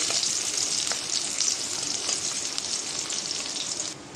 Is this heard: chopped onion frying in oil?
yes